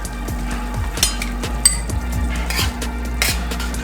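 Sugar being stirred into Jamaican stew chicken in a pot, with a spoon clinking and scraping repeatedly against the pot over a low sizzle and a steady background hum, no talking.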